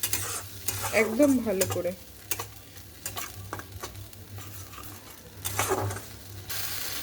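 Tomato and ginger paste being sautéed in a pan, with a soft sizzle under repeated spatula scrapes and stirring taps up close, and a brief spoken remark near the start.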